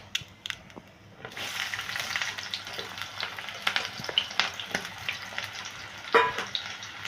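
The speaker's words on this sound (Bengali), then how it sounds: "দিয়ে এবারে এটাকে একটু ভেজে নিচ্ছি।" Onion and green chilli hit hot oil with whole cumin and start a steady, close sizzle after a brief quiet opening, with stirring scrapes and crackles throughout.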